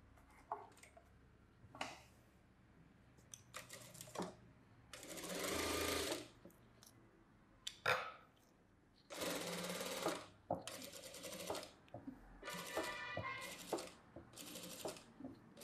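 On a slippery saree blouse fabric, a sewing machine hums in short, careful bursts of uneven length, close but fairly quiet, separated by pauses filled with faint handling clicks.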